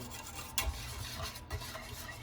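A glucose and butter mixture for coconut macaroons stirred in a pot, quiet scraping strokes and a faint sizzle with a couple of soft utensil knocks, close and steady.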